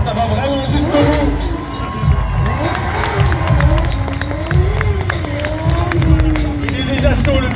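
An excited crowd cheers and shouts at a motorcycle show, a dense, steady roar of voices with whistles and calls rising throughout, while a motorcycle engine whines and revs underneath.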